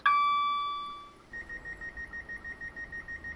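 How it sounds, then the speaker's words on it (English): Cab warning beep in Train Simulator on the North London Line: a long ringing electronic tone fades out, followed by a rapid, even series of short repeated beeps, loud and close. "So over here is a beep."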